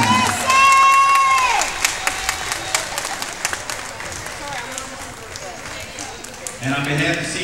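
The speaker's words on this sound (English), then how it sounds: "Let's give both teams a big round of applause" Crowd applause and cheering in a gym after a girls' basketball all-star game, a loud sustained roar of clapping and shouts with scattered whistles and a voice calling out near the start.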